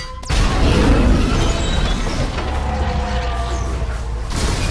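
A bomb goes off underneath a vehicle in an action film: a sudden loud boom that erupts after a brief quiet start, then a sustained low rumble with debris and creaking mechanical noise trailing across the rest of the clip.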